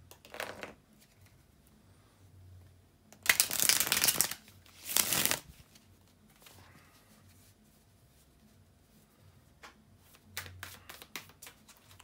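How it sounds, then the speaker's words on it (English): Tarot cards being shuffled nearby in two or three quick, crisp bursts of riffling and slapping, with quiet pauses and soft handling sounds between. "bear with me just a couple of seconds, guys, to shuffle the tarot cards"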